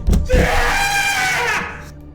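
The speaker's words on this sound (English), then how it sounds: "I hear the sound of something or someone falling down the stairs with a steady, and then a loud scream." A single loud, drawn-out scream that rises into a wailing tone and then fades, up close with no other voices.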